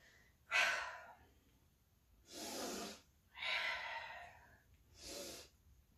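Four audible breaths during a gentle at-home balance exercise, soft airy inhales and exhales in a slow rhythm, close and fairly quiet, with pauses between them.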